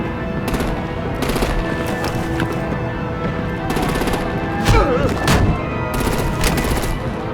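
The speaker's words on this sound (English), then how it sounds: "Bring out the artillery and disable their vehicles!" Heavy gunfire from a Batman video game battle, with sustained machine-gun bursts and rattling volleys layered over a constant loud rumble, punctuated by a few sharper impacts.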